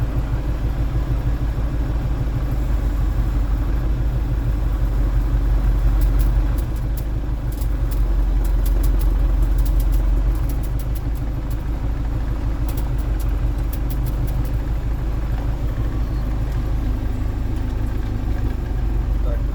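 A tractor fitted with an OLIMP-2000 PRO front loader drives along with a loud, steady low engine drone and rumble, with faint rattles over the top.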